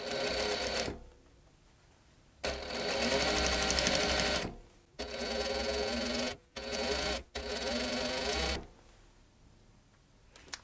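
A sewing machine stitches small fabric scraps, running in several loud, rapid bursts of a few seconds each, separated by short pauses and quiet gaps.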